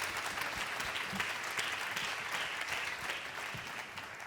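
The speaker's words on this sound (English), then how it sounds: "Round of applause for our panelists." Audience applause for a panel of speakers at an ocean sustainability summit in Genoa, a steady wash of many hands clapping throughout, fairly loud and even with no talk over it.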